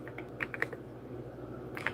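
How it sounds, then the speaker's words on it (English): Rapid keystrokes on a computer keyboard in irregular bursts of clicks, moderately close and fairly quiet, with no voice over them. "I'm typing names live, you guys."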